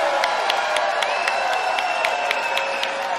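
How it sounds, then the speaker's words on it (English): Outdoor crowd at a live concert at Sculpture Park, applauding and cheering steadily with scattered whoops and whistles, a dense continuous wash of sound throughout. "Everybody give a really big round of applause for Coach"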